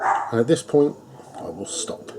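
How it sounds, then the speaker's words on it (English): A pet dog barks in a home, triggered by something passing outside, its yelps running under a man's close, steady talking. "please excuse the dog because something has just passed"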